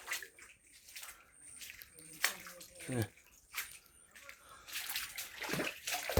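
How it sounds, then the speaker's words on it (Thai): Water splashes and sloshes as someone bathes outdoors in a mountain area, irregular bursts of splashing and pouring mixed with voices talking throughout. "มาอาบน้ำอยู่พี่จูแฮก"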